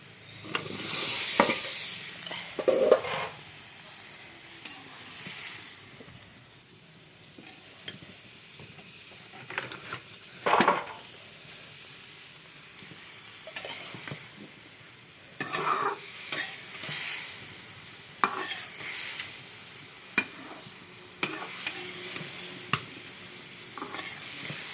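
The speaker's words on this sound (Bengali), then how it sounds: "আমার আলু আর ফুলকপি কষানো হয়ে গেছে" Potato and cauliflower sauté in a spice paste while a spatula stirs and scrapes the pan, with steady frying sizzle and occasional louder scrapes, close-up and without speech.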